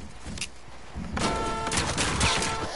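Gunfire in a video game: a dense, continuous burst of rapid shots that swells louder after the first second and holds as sustained fire, close and without talk.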